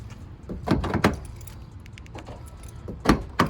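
Car door locks actuate in a few sharp mechanical clunks, two close together near the start and two more at the end, with quiet hum between.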